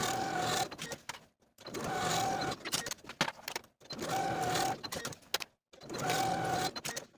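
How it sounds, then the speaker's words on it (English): Sewing machine stitching the side seams of pant waistband pieces, four distinct whirring runs of a couple of seconds each with short silent gaps between, close and moderately quiet. "Sew these seams with a 5/8 inch seam allowance and press your seams open."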